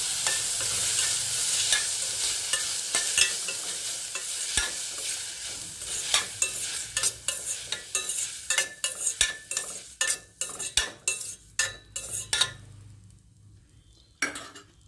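A spoon scrapes and clatters around a pan as tomatoes sizzle and fry, stirring strokes coming in quick irregular bursts before fading toward the end.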